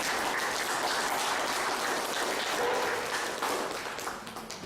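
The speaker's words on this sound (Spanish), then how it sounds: "Recibamos con fuertes aplausos" An audience at a Spanish-language lecture on public administration breaks into sustained, dense clapping that stays loud and steady before tapering slightly at the end.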